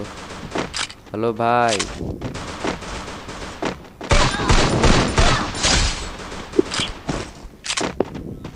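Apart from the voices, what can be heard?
gunfire in the video game Garena Free Fire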